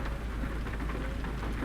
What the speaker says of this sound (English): listening to the sound of raindrops on the window